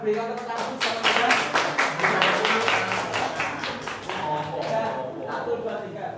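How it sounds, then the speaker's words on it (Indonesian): A class of eleventh-grade students in an Indonesian poetry lesson claps together at close range, a dense wash of hand claps with voices mixed in before it thins out toward the end. "Oke, kita tepuk tangan, berikan tepuk tangan sama-sama"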